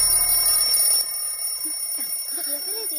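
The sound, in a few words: alarm clock ringing, in a movie scene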